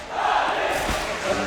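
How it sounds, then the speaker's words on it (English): A crowd at a CS:GO esports match cheers and shouts in the background, a brief swell of distant voices with a thump partway through. "And you can hear that cheer in the background."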